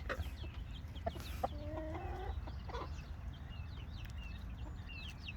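Several chickens, including feather-footed Brahmas grown from chicks and mixed-breed green-egg layers, cluck in short broken calls in a farmyard on a summer day, with steady low background noise underneath.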